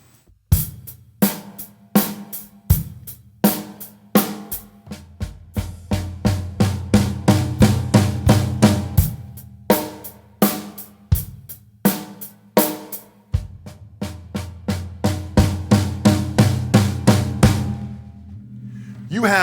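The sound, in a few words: drum kit playing a 3/4 groove with a fill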